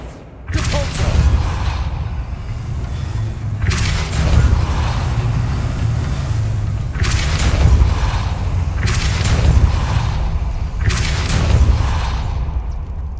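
The Depulso spell effect in the video game Hogwarts Legacy comes through as heavy rumbling booms that repeat four times, each about two seconds apart, over a constant loud low drone.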